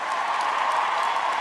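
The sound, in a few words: audience applauding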